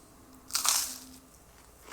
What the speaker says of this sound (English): That's a crunchy piece of bread. I like hearing that crunch.